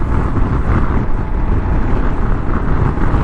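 Heavy wind buffeting over the windscreen of a 2022 Kawasaki KLR 650 motorcycle while riding upright, a loud, constant roaring rush with no talking.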